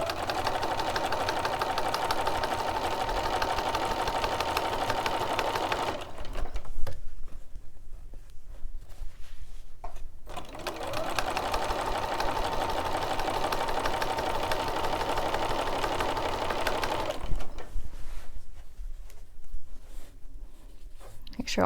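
A sewing machine stitches binding onto a quilt edge, its steady motor hum running in two long continuous bursts separated by brief pauses, close and moderately loud.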